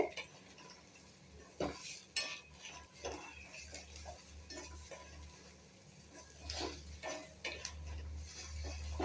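Potato finger fry with turmeric gets stirred in a pan, with irregular spoon scrapes and clinks over a faint low sizzle, fairly quiet and close with no talking.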